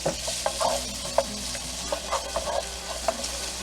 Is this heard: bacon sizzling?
yes